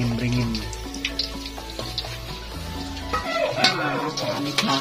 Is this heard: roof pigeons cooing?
no